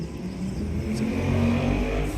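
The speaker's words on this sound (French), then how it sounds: "Je vais laisser passer le moteur." A car engine drones steadily and fairly close, swelling slightly as it passes, with no speech over it.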